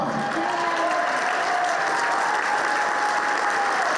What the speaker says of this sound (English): Big round of applause for Mom.